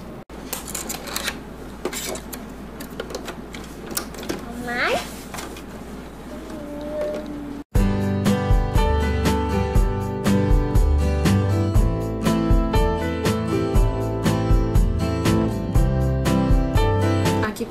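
A sewing machine topstitches a seam on a small handbag. Soft handling rustles come first, then the machine runs loud and steady in a fast, even mechanical rhythm.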